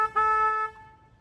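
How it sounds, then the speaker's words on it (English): A single short horn honk, a bright, steady tone lasting about half a second, sounds close and loud near a floodgate in San Antonio, then fades into low background rumble. "I'm going to have to honk my horn here."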